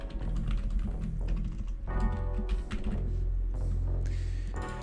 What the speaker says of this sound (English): Hopefully the keystrokes aren't too loud.